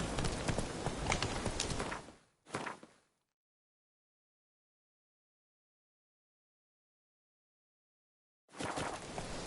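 Hooves of Roach, a horse in The Witcher 3: Wild Hunt, clip-clop steadily at close range for about two seconds, then a short burst follows before a long silence and the trotting resumes near the end.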